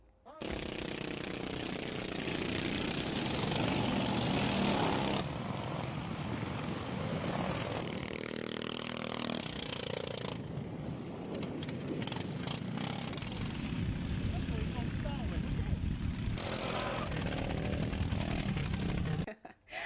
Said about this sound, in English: lawnmower racing might not be the biggest sport in the world, but like grass, it is growing.